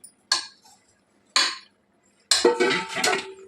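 Utensil scraping and clinking in a pot as marinated chicken, cut into medium pieces, is mixed for a Muslim-style chicken biryani; three separate bursts of clatter, the last one longer and busier, with quiet gaps between.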